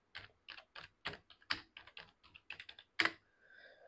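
Keys clatter on a computer keyboard in close, irregular bursts of quick taps, a final harder stroke, then a faint hum.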